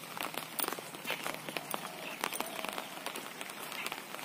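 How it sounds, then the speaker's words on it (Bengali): Rain falls outdoors in steady, broadband patter with scattered sharper drop hits and footsteps, fairly close, while someone heads out to gather leafy greens. "বৃষ্টি হচ্ছে"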